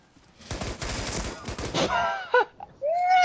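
Gunfire bursts in a tactical shooter video game, a dense cluster of rapid shots early on, then quieter clicks and a rising electronic tone near the end, with no talk.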